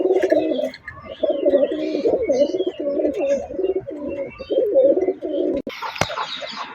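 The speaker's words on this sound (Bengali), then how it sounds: "কবুতর দুটা মাসাল্লাহ খুব সুন্দর কোয়ালিটিফুল কবুতর" Pigeons coo in low, repeated rolling phrases, close and fairly loud. A sharp knock near the end breaks in, and no one speaks.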